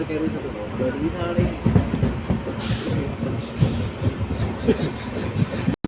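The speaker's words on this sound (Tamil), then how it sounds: "வண்டி ஒரு ரெண்டு நிமிஷம் நின்றுச்சுங்க அவ்வளோதான் கிளம்பிடுச்சு" An express train on the Karur to Bangalore line pulls away from a small junction after a two-minute stop, with a continuous low rumble and faint wheel clatter under nearby chatter.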